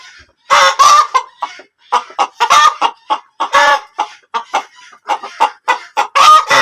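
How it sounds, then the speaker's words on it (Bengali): Tiger chickens cluck and cackle loudly and close by in a village yard, in bursts of repeated calls with short pauses between them, with no voices. "বাইরে মুরগি ডাকছে, এই কারণে এরাও মুরগি ডাকাডাকি শুরু করে দিয়েছে।"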